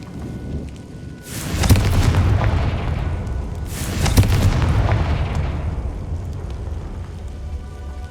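Two heavy booming blasts of Incendio and Confringo spells from the video game Hogwarts Legacy, each a loud sudden burst rolling into a long rumbling decay, with a low steady game ambience between and no voices.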